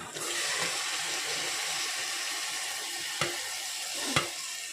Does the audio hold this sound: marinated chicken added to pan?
yes